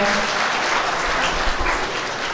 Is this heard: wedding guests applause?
yes